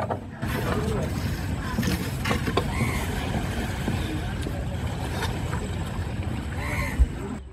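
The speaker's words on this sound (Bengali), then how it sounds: "যে ট্রলারে করে আমাদের মাছ নিয়ে আসে সেই ট্রলারটি ঘাটে পৌঁছে গেছে।" A steady low engine rumble of a fishing trawler arriving at a dock with water and mechanical clanks, a faint voice now and then, and a sharp knock near the end.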